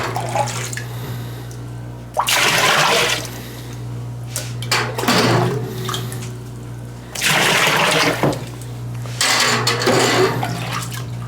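About three gallons of 75-degree water poured into a sour mash for whiskey, several loud splashing, gushing pours in separate bursts with brief pauses between them.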